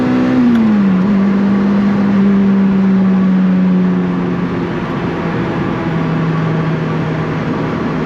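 A 2005 Lotus Elise on the road, its engine droning steadily from inside the cabin as it pulls through the gears, one pitch drop near the start as it shifts up, under a constant wash of road and wind noise.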